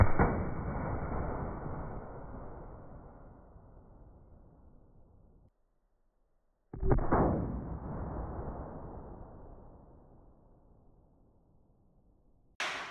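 An air gun firing a giant 3D printed pellet outdoors gives a sharp loud report that rings out and fades over several seconds, followed after a pause by a second shot and the start of a third.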